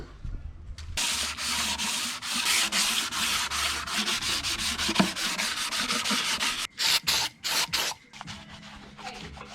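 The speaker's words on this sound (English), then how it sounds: "gonna run just some brake cleaner over it, give them a bit of a wipe down" Engine parts from an LS1 V8 twin-turbo swap being wiped down with brake cleaner and a rag, a steady close rubbing and scrubbing that runs almost continuously, then breaks into a few short strokes near the end, with no voices.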